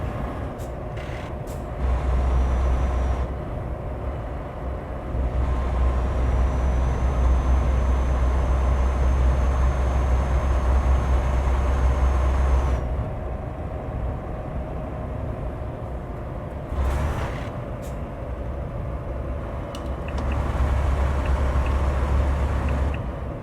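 An open-pipe Scania truck engine in Euro Truck Simulator 2 rumbles with a deep, loud exhaust drone that rises and falls with throttle, with brief air-brake hisses between pulls.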